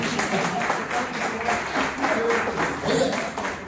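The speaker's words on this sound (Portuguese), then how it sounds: "Você pode aplaudir a Jesus por isso?" Church congregation applauding during a Pentecost healing and deliverance service, a dense wash of steady clapping lasting throughout, fairly close and loud with a murmur of voices mixed in.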